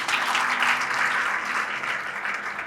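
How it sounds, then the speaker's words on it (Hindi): Church congregation clapping together in steady, dense applause that fills the whole stretch, close and loud with no pauses. "यीशु मसीह के लिए ताली बजाए।"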